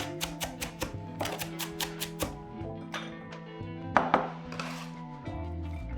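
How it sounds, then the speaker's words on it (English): A knife chops a peeled onion into large chunks on a cutting board, a quick run of crisp close taps, a pause, then more chopping. "I've peeled the onion and I'm just chopping it into these large chunks as well"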